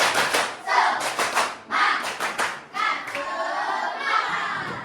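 A school class performs a rhythmic clapping chant together, bursts of group claps in patterned sets alternating with children's chanted voices, loud and close in a classroom.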